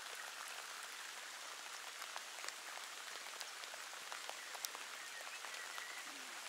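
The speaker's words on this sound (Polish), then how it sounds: "Cały czas pada, pada i pada" Steady rain falling outdoors during a fishing trip, a faint continuous patter with scattered sharper drop ticks throughout.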